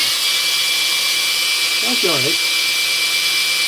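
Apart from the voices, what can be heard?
battery-powered grinder running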